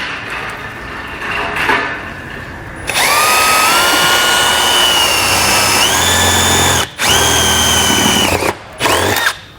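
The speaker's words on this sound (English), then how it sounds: "I'm going to drill a little hole in the side here" A power drill bores a small hole in the side of a trailer's underbody panel: a loud, steady whine that starts after a few seconds of quiet handling, stops briefly twice, and resumes.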